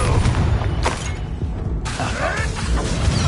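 A Confringo blasting spell goes off in the video game Hogwarts Legacy, a loud booming blast amid dense, continuous crackling and rumbling from the surrounding combat.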